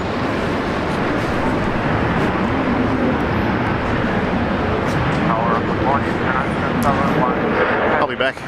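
Airliner lined up on runway 19 left at Brisbane International Airport, a steady broadband engine roar filling the whole clip at constant loudness, with faint voices in the background toward the end.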